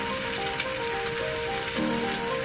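Egg with onion and tomato fries in a pan, giving a steady, dense sizzle that stays loud and close for the whole stretch with no talking over it.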